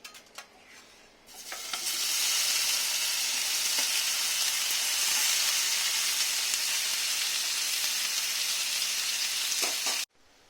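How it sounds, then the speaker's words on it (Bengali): Paneer fries in ghee with a loud, continuous sizzle that swells in after a few quiet clicks and holds steady for about eight seconds before stopping abruptly. "এখন আমি একটু ঘি দিয়ে ভেজে নেব। পনিরে কিচ্ছু দেব না, এমনি শুধু পনিরই ভেজে নেব।"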